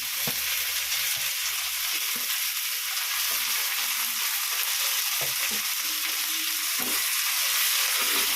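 Tomatoes frying in a pan for a home-cooked tomato rice dish, a steady close hiss of sizzling oil with occasional soft stirring knocks, no talking.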